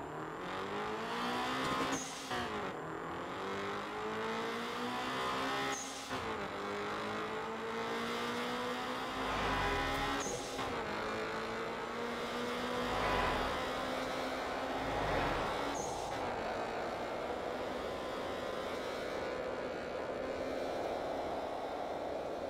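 Turbocharged 345-horsepower car in the retro JDM racing game Night-Runners, a steady loud engine drone with rising revs and repeated gear shifts over about twenty seconds, no voices.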